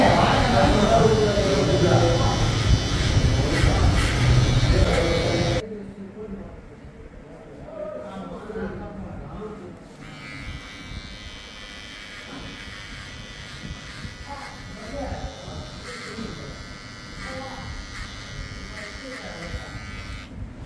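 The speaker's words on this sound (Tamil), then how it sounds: "இந்த கட்டிங் ஃபுல்லாகவே இந்த மிஷின் பயன்படுத்தி தான் நான் வெட்ட போகிறேன்" An electric hair trimmer buzzes loudly while cutting hair, then drops to a quieter, steady hum as the cutting continues, with someone talking over it.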